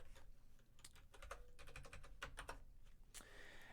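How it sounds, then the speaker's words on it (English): Someone types on a computer keyboard in quick, uneven bursts of crisp key clicks, close and fairly quiet, with no speech. "if I could hit the keys on my keyboard correctly."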